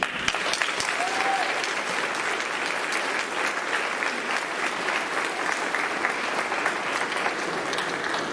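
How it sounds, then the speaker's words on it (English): Sustained applause from a large audience at a graduation ceremony, steady and loud throughout, with scattered claps and a faint murmur of voices. "please give you a much deserved round of applause"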